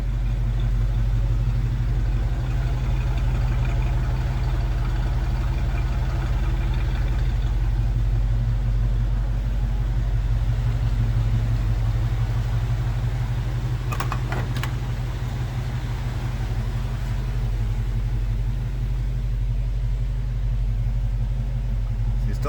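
A big block Chevy squarebody truck with stock mufflers idles steadily while warming up, a smooth continuous low rumble with a brief clattering burst partway through.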